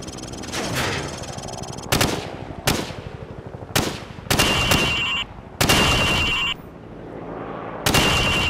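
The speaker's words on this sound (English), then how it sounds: "Now, shoot at the targets while firing from the hip." Rifle fire from the hip in the Call of Duty 4: Modern Warfare training range, several loud, close bursts and single sharp shots spaced about a second apart, each ringing out briefly, with a metallic ping from struck targets.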